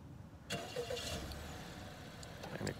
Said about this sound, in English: So you've got the remote engine start.